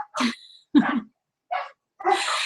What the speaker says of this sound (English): there has to be a squirrel and they have to be barking